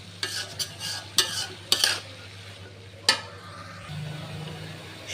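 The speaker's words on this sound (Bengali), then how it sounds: "সব কিছু দিয়ে মিশিয়ে নিতেছি।" Vegetables being stirred in a pan with salt, turmeric and chili powder, a spoon scraping and clinking against the pot a few times before a low, steady sizzle takes over.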